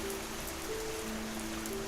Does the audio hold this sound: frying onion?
no